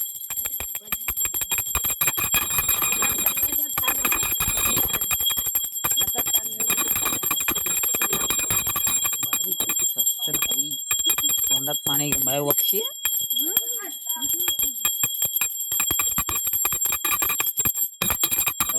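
A hand bell rings rapidly and continuously for a long stretch at a Konkan Gauri Agaman festival, bright and close, with voices briefly talking partway through.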